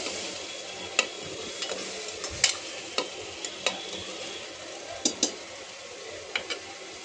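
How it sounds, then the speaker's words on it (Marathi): Chili and onion fry in a pan for pav bhaji, giving a soft, even sizzle. Occasional light clicks and taps of stirring sound over it. "आपली मिरची आणि कांदा आता चांगलं फ्राय झाले"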